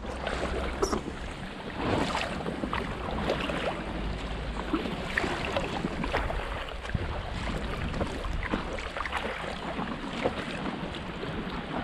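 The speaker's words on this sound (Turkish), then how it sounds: "oraya doğru hızlıca kürek çekiyor" An inflatable kayak moves across sea water along the coast with steady paddle splashes and lapping, under a constant breeze and wind noise.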